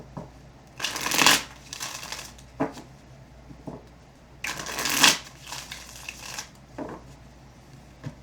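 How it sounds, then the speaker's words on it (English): Tarot cards are riffle-shuffled in several quick bursts, each a crisp fluttering rattle, with soft taps and handling between them, close and fairly quiet. "Let's start by shuffling the deck here for you."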